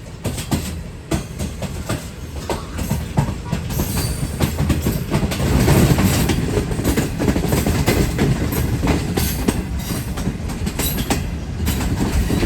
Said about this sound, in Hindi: तो 8:40 पर ट्रेन हमारी तकरीबन अप्रोच बना रही है लाहौर जंक्शन रेलवे स्टेशन पर।